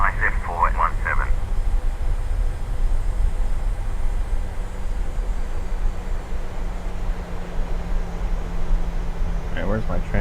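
A PMDG Boeing 737 in Microsoft Flight Simulator rolls for takeoff from Dublin, a steady loud engine roar with a constant low hum running throughout, and brief radio chatter at the start and end.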